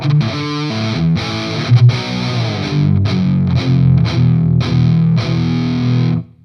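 Electric guitar through Mooer pedals with a basic hard rock tone, gain a little below 3: loud, driven chords and riffs played steadily before the final chord cuts off.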